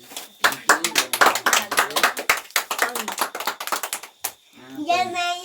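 Family members clap together at a birthday celebration, a fast, uneven burst of close hand claps lasting several seconds, followed by a brief pause and then voices talking.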